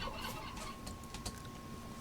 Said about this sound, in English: we've got chickens over here.